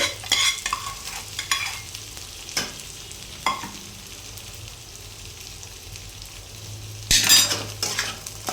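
Chicken pieces and egg for fried rice are stirred in a hot pan, with spatula scrapes and clinks over a steady sizzle, close and fairly loud, and a louder burst of frying near the end.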